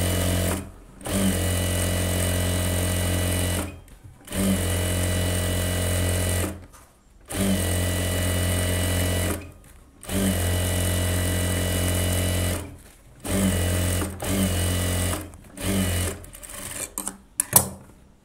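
A sewing machine stitches a silk pavadai skirt and blouse in repeated loud, steady runs of rapid needle chatter, each burst broken by a brief pause.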